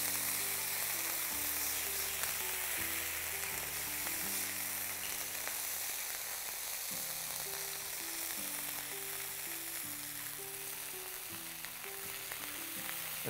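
Beef sizzles steadily in a hot frying pan for a samsa filling, a dense, continuous crackle that stays close and even throughout, with music playing underneath and a faint stir now and then.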